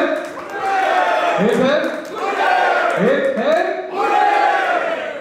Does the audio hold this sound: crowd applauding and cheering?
yes